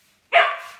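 A single sharp dog bark rings out after a moment of silence, loud and close, trailing off slightly.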